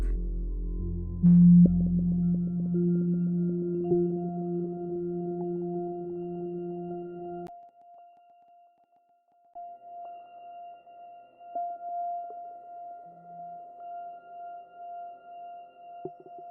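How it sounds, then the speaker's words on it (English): Sustained electronic synth tones with phase distortion, first a rich low drone, then thinner pitched notes pulsing and wavering, with a short silent gap midway. "There's some phase distortion."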